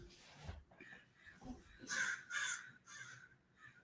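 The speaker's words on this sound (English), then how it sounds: "I got crows outside my window" Several harsh caws from crows outside a window, coming in a loose series of bursts at moderate distance with no talk over them.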